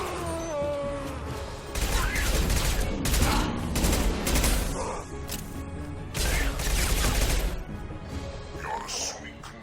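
Rapid bursts of gunfire and combat effects in the video game Mass Effect 2, loud volleys repeating in clusters, with someone talking over the action.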